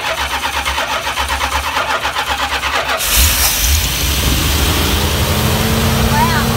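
An old Dodge 440 camper RV engine cranks with a steady rhythmic churn for about three seconds, then catches and roars into a loud, continuous running idle close by.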